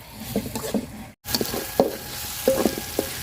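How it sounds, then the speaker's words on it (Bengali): Ginger and garlic fry in a pan, a steady close sizzle broken by a few stirring clacks and scrapes, with a brief cut partway through. "আদা রসুনটা আমি সুন্দর করে ভাজা নিচ্ছি"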